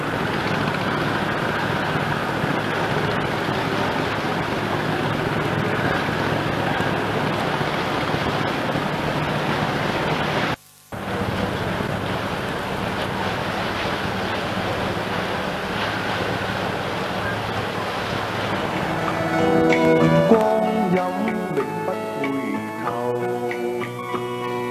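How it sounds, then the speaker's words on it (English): Waves and wind on Hong Kong's Victoria Harbour in 1981, a steady broad wash of water and breeze with boat engines under it, a brief dropout midway, and tonal music rising near the end. "The hustle and bustle of all boats and ships and water transport of all shapes and sizes scurry back and forward across the"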